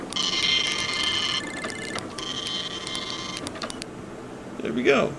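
A cyber printer machine in the retro point-and-click adventure game Space Quest 6 whirs and buzzes in long mechanical bursts, then winds down with a short chirp, while a person talks over it.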